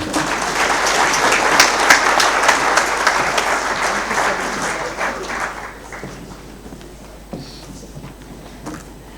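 An audience at a winter school conference in Victoria Falls claps for the Deputy Minister, loud, dense applause that gradually thins and fades toward the end, leaving scattered claps.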